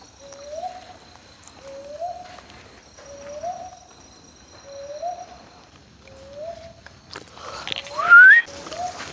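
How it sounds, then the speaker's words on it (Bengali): At night near water during traditional spear fishing, a bird gives a series of six short, rising whistled calls at a slow, even pace. A louder burst of noise and a higher call break in near the end. "আরেকটা পাখির শব্দ শুনলেন এখানে?"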